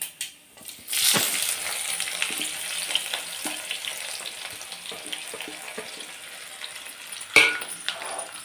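Soft sizzling and crackling of chopped onions frying in a pan, with a scrape of stirring near the start and a clatter later.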